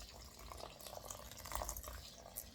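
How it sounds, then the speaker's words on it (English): Water pours from a tap into a bowl on a kitchen scale while measuring for a sourdough loaf, a faint, steady splashing stream throughout. "Pour it in till it says what you need."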